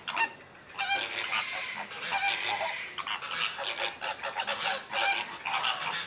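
Geese and other fowl at a bird park, honking and calling over and over in a busy overlapping chorus, some calls near and loud, others farther off.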